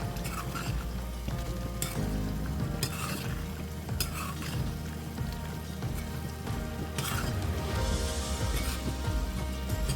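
Spoon stirring and scraping a coconut-coriander paste into sizzling kaleji masala in a pan, repeated clinks and scrapes over a constant frying hiss, close and clear.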